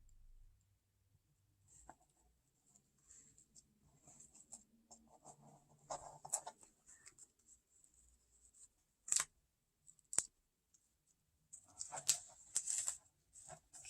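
Scissors trim paper for a Victorian lace wall hanging, making scattered quiet snips and rustles in a calm room, with a few sharper cuts toward the end.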